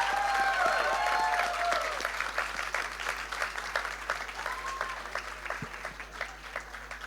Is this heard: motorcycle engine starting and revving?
no